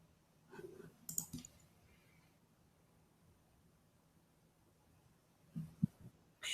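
A computer mouse clicks to select an answer on screen: a few faint, sharp clicks, one near the start and another later, separated by near-silence in a quiet room.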